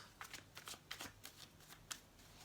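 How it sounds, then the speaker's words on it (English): Tarot cards are shuffled by hand in a quiet room, a quick run of soft riffling bursts repeating in an uneven rhythm, close and fairly faint with no talking. "So I'm going to pull some cards as promised."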